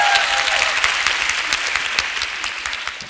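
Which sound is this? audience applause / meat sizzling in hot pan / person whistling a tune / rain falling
audience applause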